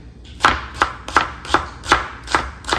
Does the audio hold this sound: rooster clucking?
no